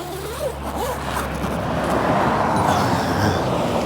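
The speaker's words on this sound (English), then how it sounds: "The first thing I'm going to do is unzip." An RV awning cover being unzipped on a 2026 Sunray 109 camper, a steady scratchy zipper pull running for several seconds close by over faint outdoor traffic hum.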